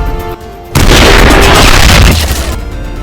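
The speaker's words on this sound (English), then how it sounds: "The explosion behind me wiped all evidence clean." A grenade dropped into a planted case explodes in a loud, sustained boom that bursts in suddenly, roars broadly for over a second, then tails off into a rumbling aftermath.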